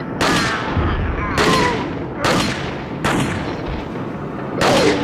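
Gunfire in the video game Resident Evil 4 (2005): four or five loud, sharp shots at roughly one-second intervals, each with a booming decay.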